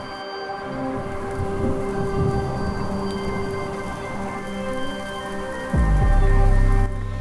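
Rain falls steadily over open water on the Pacific Northwest coast as a storm moves in, a continuous hiss with a brief heavier, louder rumble near the end.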